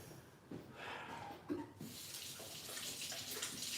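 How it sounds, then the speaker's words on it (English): Tap water running into a sink while hands are washed, a soft steady splash that grows fuller midway, with faint breathing, close and alone. "I'm going to wash my hands."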